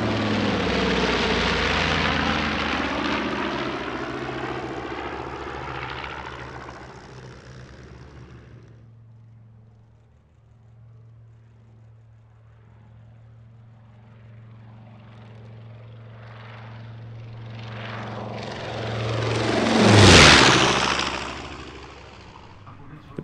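A T-28 trainer aircraft with a 1,400 hp radial engine flies at an airshow in Leszno: a loud propeller drone fades away to near quiet, then swells into a roaring close pass and recedes.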